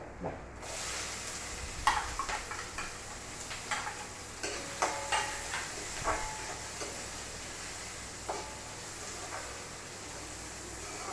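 Mustard seeds spluttering and dried chilli frying in hot oil alongside ginger, garlic, shallots and green chilli, a steady sizzle broken by scattered sharp pops and light stirring scrapes, close by with no talking.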